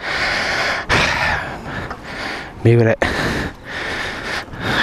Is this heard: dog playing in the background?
no